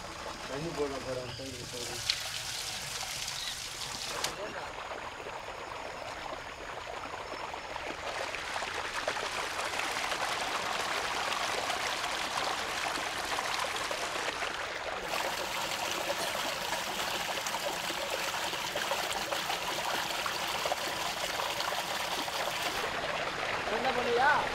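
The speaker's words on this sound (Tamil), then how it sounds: "தண்ணி போட போகிறேன்." Water poured steadily onto soil, a continuous trickling and splashing wash that stays fairly even and builds slightly in strength over the whole stretch.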